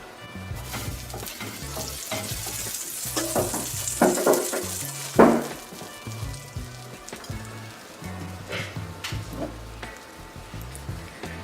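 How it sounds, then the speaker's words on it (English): Two tablespoons of butter melt in a pan with a steady, close sizzle and crackle, punctuated by a few louder pops and spits, with no talking. "Two tablespoons of butter. Gonna let that melt down."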